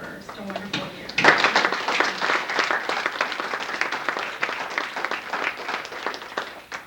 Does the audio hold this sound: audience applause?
yes